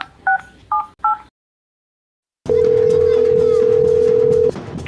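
Several short two-tone keypad beeps as a number is dialed, a pause of silence, then a steady ringing tone over background noise.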